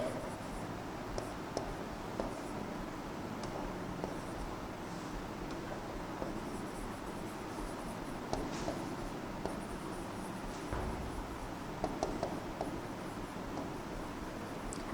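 A pen writes out an example sentence during an English grammar lesson on interjections: steady scratchy strokes with faint taps, low and continuous against a soft background hiss, with no talking.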